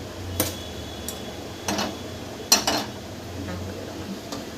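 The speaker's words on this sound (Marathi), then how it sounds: "कढई घेतली दोन गॅसवर ठेवली" A metal kadhai (wok) is set down on a gas stove, giving a few sharp, close metallic clanks and clatters spaced irregularly over a low steady hum, with no talking.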